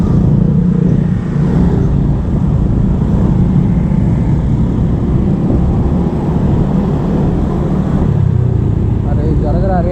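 Dense, loud traffic rumble on a hilly road in Bali, continuous engine drone from cars and motorbikes close by, with a person talking over it.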